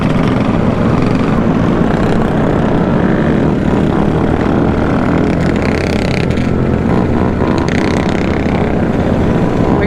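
A mini bike engine runs loud and close for the whole stretch, giving a steady, rough mechanical roar with no clear pauses.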